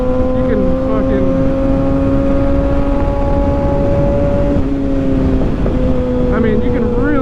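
Kawasaki ZX6R 600 motorcycle engine holding a steady loud drone while riding, pitch dipping once midway then climbing again, with heavy wind rush over the microphone throughout.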